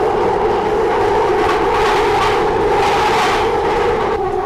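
A London Underground train runs loud and close with a steady roaring rumble and a high rushing whine, unbroken for the whole stretch.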